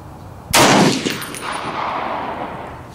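One loud shot from a Lencac M1A SOCOM rifle fired at a steel post 200 yards away on an outdoor range, with a sharp crack followed by a long rolling echo that dies away.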